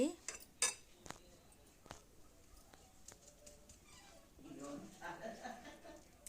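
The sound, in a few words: mixing eggs with chillies and ginger in a bowl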